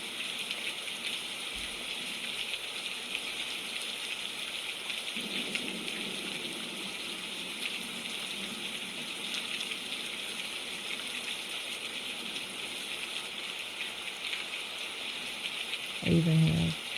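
Heavy rain on a very rainy day, a constant hissing wash with continual dripping, steady and moderately loud throughout, with a brief voice-like burst near the end.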